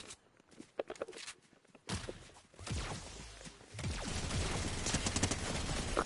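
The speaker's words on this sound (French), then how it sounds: "Je vois qu'on me tire de derrière," Gunfire in the video game Fortnite, a quick run of shots and impacts over footsteps that builds into a dense, loud volley of rapid fire continuing to the end.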